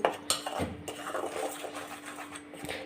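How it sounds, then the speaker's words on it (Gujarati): Khaman batter ingredients are mixed in a bowl with a spoon, making close, irregular scraping and clinking sounds with small wet stirring noises. "હવે બધી સામગ્રીને આપણે આ રીતના મિક્સ કરી લઈશું"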